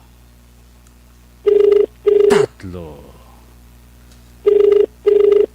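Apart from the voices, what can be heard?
cellphone ringing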